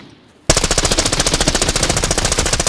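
Gunfire in the video game Arena Breakout Infinite: after a brief quiet moment, a loud, steady automatic burst of rapid, evenly spaced shots continues without pause to the end.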